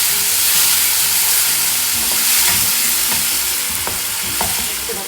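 Tomatoes go into a pan of chopped onions fried until pinkish for paneer kofta: a loud, dense sizzle with stirring scrapes and small taps, steady throughout and easing slightly at the end, with no talk.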